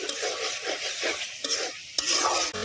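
Masala being stirred and fried in hot oil for a Bengali shapla (water lily stem) dish, with a steady close sizzle and rhythmic scraping strokes of a spatula in the pan.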